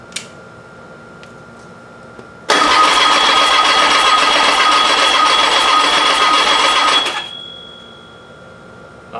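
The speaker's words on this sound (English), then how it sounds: "I'm about to try this again with this fuel pump, see if it'll crank over" Meyers Manx dune buggy engine, fitted with a replacement fuel pump, cranking over without catching: a loud, steady churning burst of about four and a half seconds that stops abruptly.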